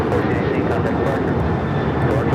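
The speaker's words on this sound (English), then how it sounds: "This is Alaska Airlines 1418 taking off to Guadalajara on the 737-900ER." Alaska Airlines Boeing 737-900ER jet taking off at LAX, a loud, steady engine roar that stays constant throughout, with no clear rise or fall.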